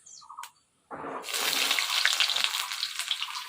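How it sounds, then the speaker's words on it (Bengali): Chopped ginger, garlic and onion drop into hot oil in a Bengali village vegetarian kitchen, setting off a sudden loud sizzle that settles into a steady, crackling frying hiss after a brief quiet gap. "কুচি কুচি করে আদা রসুন কাটা দিছি আর পেঁয়াজ"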